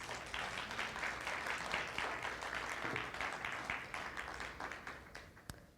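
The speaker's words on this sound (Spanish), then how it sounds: "¿Le puedes dar un aplauso a Dios?" A church congregation claps in sustained applause during a sermon, a crisp crowd of hands that gradually thins and fades toward the end, closing with one sharp clap.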